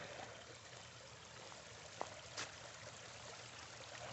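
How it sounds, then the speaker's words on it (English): A small, shallow creek runs across a hiking trail crossing, a steady soft rushing and trickle of water with one or two brief clicks, heard alone at low level. "this is like a little creek crossing here"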